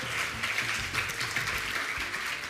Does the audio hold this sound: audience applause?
yes